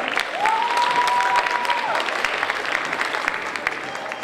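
Steady, full applause from a gala concert audience at a dance festival in Prague, continuous clapping throughout with a brief sustained tone near the start and faint crowd murmur beneath.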